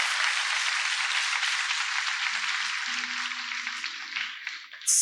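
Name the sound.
congregation applauding loudly for the Lord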